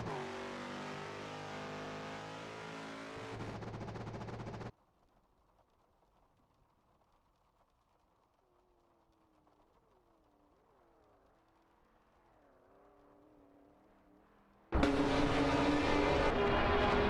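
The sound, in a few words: race cars driving in a racing video game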